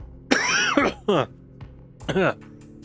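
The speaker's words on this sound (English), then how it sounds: "I've been coughing a lot" A person coughs a few times in quick, harsh bursts, close and fairly loud, with short pauses between them.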